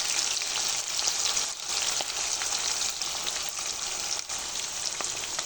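Ground spice paste with salt and turmeric fries in very hot mustard oil, giving a loud, close, continuous crackling sizzle with small pops throughout and no talking.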